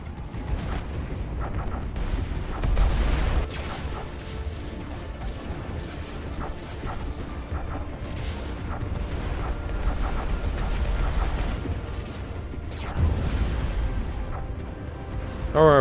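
A Stellaris strike cruiser being destroyed in a space battle: a continuous rumble of heavy booms and blasts with several louder explosions, as weapons fire crackles throughout the fight.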